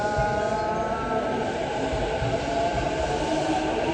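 A local train in Japan rolls past nearby with a steady rumbling roar and sustained tonal whine from its wheels and motors, running at an even volume throughout.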